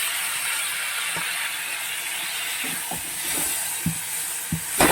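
Rice and tomato with lentils are sautéed in a pan for khichdi, giving a steady soft sizzle with a few scattered clicks and scrapes of stirring, moderately close and with no talking.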